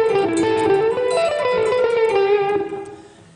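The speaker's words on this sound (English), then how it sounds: "now we close out this solo with this fun little run that sounds like this." Blues guitar run closing out a solo, a quick string of picked notes with bent, sustained pitches, slightly overdriven and close, ending on a note that rings and fades.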